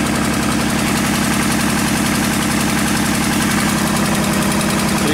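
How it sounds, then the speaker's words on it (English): A GM truck engine idles with a bad misfire, a loud close rumble with an uneven, stumbling pulse that keeps going with no talk. "Misfiring pretty bad."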